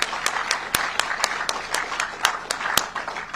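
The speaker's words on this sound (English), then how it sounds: "I think they deserve another round of applause." An audience at a groundbreaking ceremony for Texas border wall construction gives a round of applause, with a steady patter of clapping and a few sharper, louder claps standing out.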